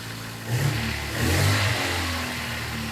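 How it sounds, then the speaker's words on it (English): A new car's engine revs up twice in quick succession, rising and falling close by before settling back toward a steady idle. "What I like to do is just give it a couple of revs"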